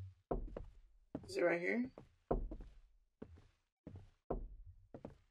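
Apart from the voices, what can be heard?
knocking on a window, from a video game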